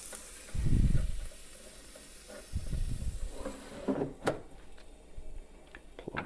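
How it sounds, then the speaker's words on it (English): A steak dropped into the basket of a dual-basket air fryer makes a soft, close thud near the start, followed by quieter rustling and handling clatter. "Now we will throw in our steak."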